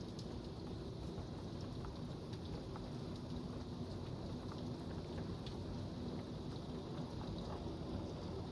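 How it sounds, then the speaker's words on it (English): A thunderstorm outside by a deck: heavy, steady rain pours in a dense wash, with deep low thunder rumbling underneath throughout and no voices. "Look at the rain just flying off the deck."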